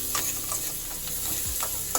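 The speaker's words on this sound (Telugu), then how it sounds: "ఇప్పుడు మంచిగా కలుపుతున్నాం." Buttermilk charu being stirred in a pan with lightly frying onions and a pinch of turmeric, giving a steady soft sizzle with scraping stir strokes throughout, no talking.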